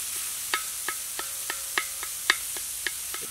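Liver and meat browning in a pan for Cajun dirty rice fill the clip with a steady, loud sizzle. Spoon scrapes and stirs knock at regular intervals, and no one talks.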